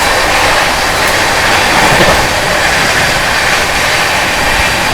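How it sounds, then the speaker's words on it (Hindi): Rajdhani Express overtaking the Shri Shriram Superfast Express, heard as a loud, continuous roar of rushing train and rolling wheels that hardly varies in level from start to finish, with no voices. "Overtaking Shriram superfast express."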